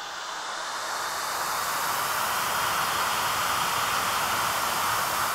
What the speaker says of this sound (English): currently playing pink noise on the DM-RTA into the amplifier